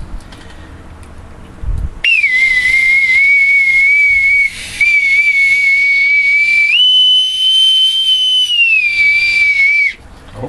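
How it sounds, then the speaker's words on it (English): A brass bosun's whistle is piped loud and close as a ship's call to welcome someone aboard, one long shrill sustained note that wavers, leaps to a higher pitch midway, then slides back down before cutting off. "my authentic bosun's whistle, I will pipe him aboard"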